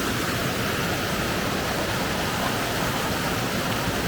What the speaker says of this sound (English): I just stood around in some icy water coming off of the Pinnacle waterfall